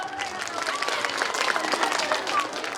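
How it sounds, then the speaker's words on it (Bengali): A crowd claps at a school farewell gathering, a fairly even patter of many hands at moderate distance, with murmuring voices mixed underneath. "জোরে হাততালি হয়ে যাও"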